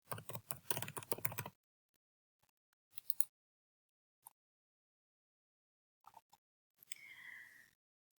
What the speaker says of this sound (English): now I'm going to type in fibromyalgia into this search bar